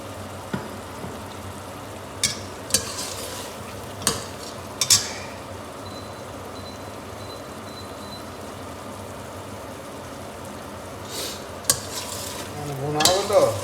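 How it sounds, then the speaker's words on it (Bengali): Pointed gourd (potol) stir-fried with spices for a bhuna, a steady soft sizzle with sharp clinks and scrapes of a spatula against the pan recurring every couple of seconds, close and without talk. "এই যে পটলটা হালকা কষে দিব"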